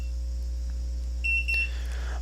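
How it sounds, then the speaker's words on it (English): HOBO MX1101 data logger sounding its audible alarm: a short, high electronic beep pattern, fairly faint over a steady low hum, with no talking. "I tripped one of my alarms here, so we can page it so you can hear what it sounds like"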